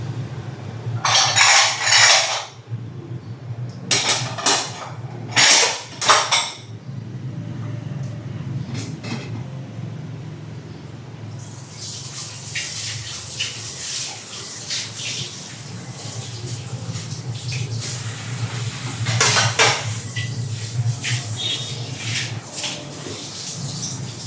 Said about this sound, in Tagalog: maghugas tayo ng mga plato para perfect